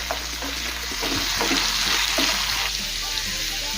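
Ivy gourd, potato and onion frying in a pan while being stirred: continuous close sizzling with scraping and stirring clatter that swells midway, no voices.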